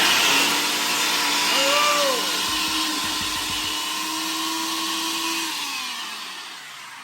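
A noisy blender whirring steadily at a constant pitch as a vegan protein bar mixture is blended, the motor loud and close and slowly easing off toward the end.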